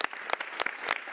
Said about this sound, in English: give a round of applause to that